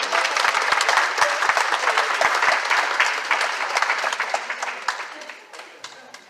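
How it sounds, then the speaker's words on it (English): Applause from attendees at the close of a monthly community meeting with a fire department presentation, a full burst of clapping that gradually thins and fades toward the end. "One more round of applause for that."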